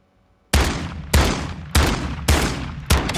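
Rapid gunshots in Call of Duty Modern Warfare II, five loud, sharp bursts fired at an even pace about half a second apart, each with a booming low tail.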